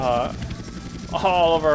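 Helicopter in the video game GTA San Andreas, its rotor buzz and engine whine droning steadily and fairly loud, rising again near the end, mixed with game sound and no clear words.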